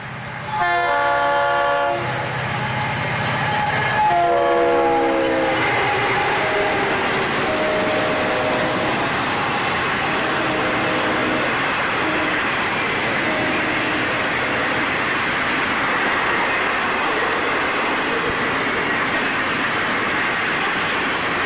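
A hot northbound freight train hauled by two GP40 diesel locomotives sounds its horn in two loud blasts, then rumbles steadily past with continuous wheel and car noise close by.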